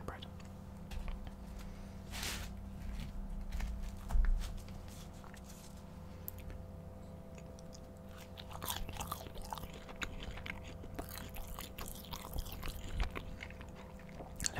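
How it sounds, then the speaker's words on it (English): Soft, close chewing and crunching of curry, chips and naan bread with occasional bites, low and steady against a faint background hum, with no clear speech. "a nice chewing sound for the chips"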